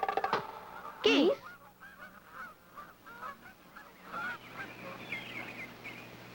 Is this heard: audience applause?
no